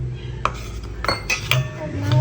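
A spoon stirs a thin maida flour and water batter for sweet potato cheese balls, striking the bowl in a few bright, close clinks and scrapes over a low background hum.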